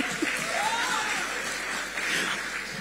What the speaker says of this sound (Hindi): आप एक बार आज तक के लिए तालियां बजाएं पहले